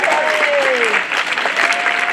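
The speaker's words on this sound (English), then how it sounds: "Give them a round of applause." A school audience at a drum show gives a round of applause, dense clapping from a crowd heard throughout, with a faint voice and a gliding tone briefly over it.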